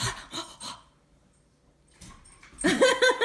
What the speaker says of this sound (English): Now the dogs are playing,